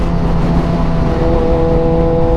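A powerful motorcycle engine pulls hard while overtaking on a road ride from Oban back to Glasgow, producing a loud, steady, close roar with sustained tonal drone and wind rush.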